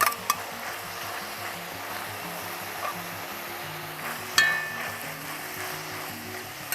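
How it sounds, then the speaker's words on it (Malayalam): Tomato, okra, ginger, green chilli and garlic sauté in oil in a pan for Kerala sambar, giving a steady close sizzle with a few sharp utensil clicks against the pan. "എല്ലാം കൂടി വഴറ്റണം"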